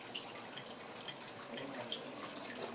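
Tap water runs softly in a steady, quiet stream with faint splashing and shifting as meat is rinsed beneath it for Nigerian Efik soup.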